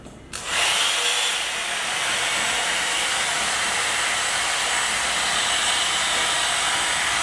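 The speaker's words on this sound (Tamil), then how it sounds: "இதில் வந்து ஹீட் வந்து மிடில் வச்சுட்டு நான் வந்து ப்ளோ ட்ரை" A hair dryer set to medium heat starts up and then blows in a loud, steady, close whoosh that holds unchanged for several seconds, with no talking.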